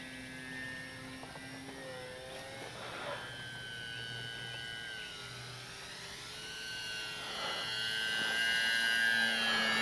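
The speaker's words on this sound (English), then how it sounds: "What a great flying little plane." An E-flite Sportix 1.1 m RC model plane passes overhead on a warm day, its electric motor giving a steady, high whine that rises and falls in pitch as it climbs and banks, growing louder toward the end.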